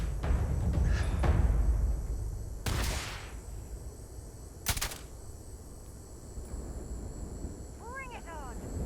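Gunfire in the video game Starfield: two sharp, broadband shots a couple of seconds apart over quieter ambient game sound, with a person talking early on.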